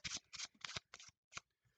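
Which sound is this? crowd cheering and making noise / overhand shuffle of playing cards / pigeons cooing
overhand shuffle of playing cards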